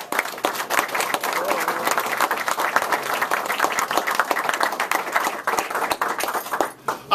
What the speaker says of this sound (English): Give Anton a round of applause.